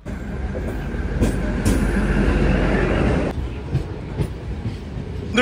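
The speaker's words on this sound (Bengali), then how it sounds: "ট্রেন এখন ঢুকছে 1:53" A Lataguri local DEMU train rolls into the station with a loud, continuous rumble and clatter of wheels that eases off toward the end. A few sharp clanks and squeals break through, and a voice is faintly heard.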